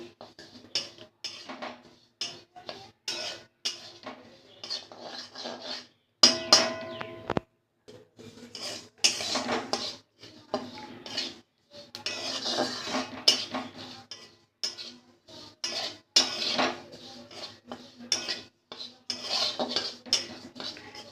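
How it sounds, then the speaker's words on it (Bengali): Sesame seeds dry-frying in a pan, stirred with a metal spoon: rapid, repeated scraping and clattering strokes against the pan in uneven bursts with short pauses, close and loud, no frying sizzle evident. "তিলটা সুন্দর করে লাল লাল করে ভেজে নেব।"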